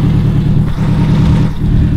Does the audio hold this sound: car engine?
yes